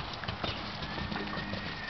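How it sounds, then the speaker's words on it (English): A horse's hooves clip-clop in a quick, steady patter of soft, close knocks that carry on through the short moment with no other sounds. "There's my horsey."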